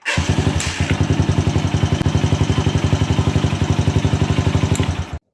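A primary-type motorcycle fitted with a key auto-start ignition switch fires up and runs with a steady, rapid, loud close-up thumping idle, then cuts off abruptly.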